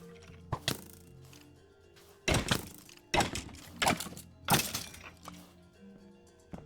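Sharp cracks and thunks from arrows striking nearby in the Minecraft video game while under fire, several distinct impacts spaced a second or so apart over quiet background sound.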